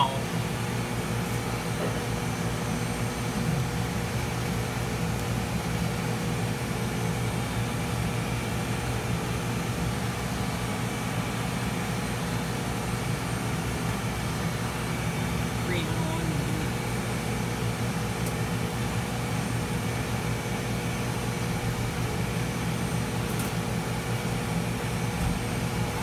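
An AC motor hums steadily inside a step-by-step telephone exchange, a constant broadband drone with low mains-like tones that holds evenly for the whole span, with occasional faint clicks on top.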